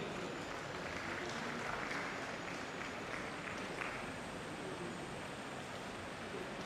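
Applause for a guest at a college lecture, a faint, diffuse wash of many hands clapping in a large hall, steady and distant without distinct individual claps.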